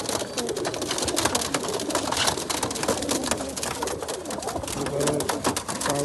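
Around twenty pigeons in a pigeon loft coo softly amid dense rustling and fluttering, a continuous busy murmur with faint low calls throughout.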